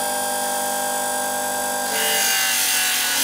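Small, fast sharpening machine grinding a Bonika convex edge shear blade at 400 grit: a steady high motor whine, then a brighter, louder grinding hiss as the blade meets the abrasive.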